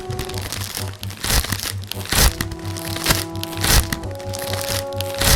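Crinkly plastic crisp and biscuit packets rustle and crackle as they are torn open, several at once, with a low steady hum and faint murmuring underneath.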